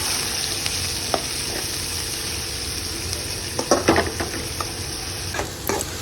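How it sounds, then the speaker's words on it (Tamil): Finely chopped sambar onions (shallots) sauté in a pan with grated coconut for a prawn and chicken masala, a continuous close sizzle broken by scattered scraping clicks of a spatula stirring, growing busier toward the end. "ஸோ சாம்பார் வெங்காயம்லாம் நல்லா வதக்கி கொடுத்ததுக்கப்புறம்"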